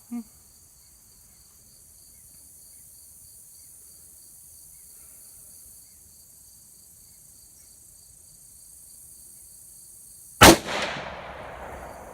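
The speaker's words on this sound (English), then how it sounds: "I think I may have pulled that 3rd shot." A single loud, sharp crack from a Ruger Precision Rifle fitted with a muzzle brake comes late in an otherwise quiet outdoor scene with a steady chorus of crickets, and a short echoing tail follows the shot.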